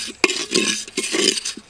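A spoon scrapes and stirs dry kasuri methi leaves in an earthen clay pot without oil, sharp clinks and gritty rasping strokes repeating close up in an irregular rhythm.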